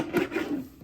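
A paper trimmer slices through scrapbook paper in one short rasping cut, close and fairly loud, with no one speaking.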